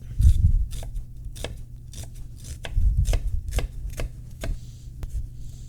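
A knife dices red onion on a cutting board in a home kitchen, giving a quick run of sharp, close chopping taps in an uneven rhythm, alone without speech.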